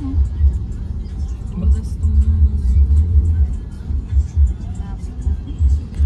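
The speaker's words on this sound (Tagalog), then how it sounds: "Super traffic." Heavy road traffic near a stoplight, a low rumbling wash of engines and passing vehicles that swells and fades, with people talking over it throughout.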